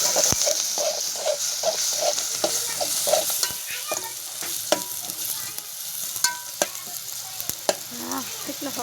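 Turmeric and garam masala sizzle in hot oil as a spoon stirs them in a pan, a close crackling fry with rhythmic scraping strokes that give way to scattered clinks and ticks.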